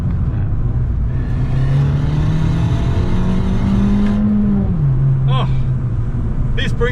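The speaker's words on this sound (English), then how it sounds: "that Monza exhaust is sounding so cool" An Abarth 695 70th Anniversario's Monza sports exhaust revs and rumbles close by, the engine note holding and rising before settling, with brief voices toward the end.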